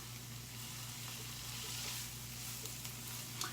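Tomato paste frying in olive oil and butter in a small kitchen pan: a steady, soft sizzle that crackles gently, with a low hum beneath it and no talking.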